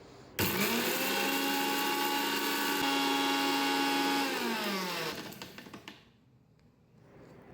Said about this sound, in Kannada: ಇದನ್ನ ಸ್ವಲ್ಪ ಗ್ರೈಂಡ್ ಮಾಡ್ಕೊಳ್ಳೋಣ.